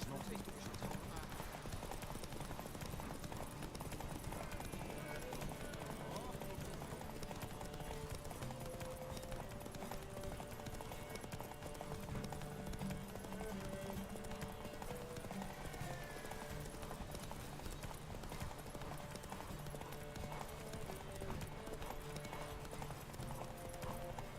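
Horse hooves clip-clopping at a steady galloping rhythm in the video game The Witcher 3 Wild Hunt, mixed under continuous game music and ambience, with a voice talking over it.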